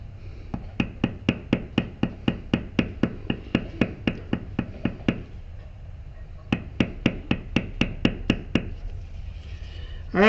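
A mallet strikes a leather beveler again and again while tooling a skull and spider web design, giving sharp, evenly spaced taps close up in two long runs split by a brief pause, with no talking.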